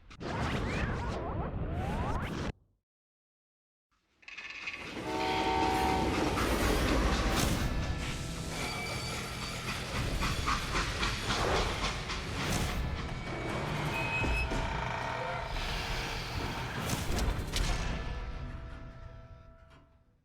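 A freight train in a video game rumbles and clatters steadily along the rails, with a brief silent break early on before the heavy rolling noise resumes.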